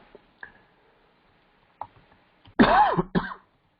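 A single close, harsh cough followed by a short second cough, after a few faint clicks in near silence.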